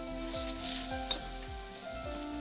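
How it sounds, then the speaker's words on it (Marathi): Fresh coriander and a spoonful of coriander powder dry-roasting in a pan, a soft steady sizzle with faint scraping as the mixture is stirred, close and quiet, with no talking. "तर यामध्ये कोथिंबीर भाजून घ्यायची, 1 चमचा धनेपूड तीही भाजून घ्यायची"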